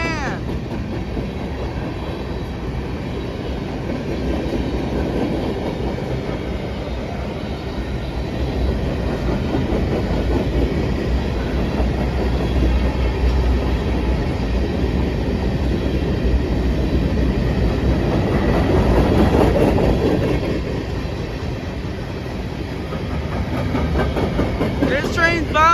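An empty CSX potash freight train rolling past at night, a steady heavy rumble with rhythmic wheel clatter on the rails, swelling slightly as cars pass close by.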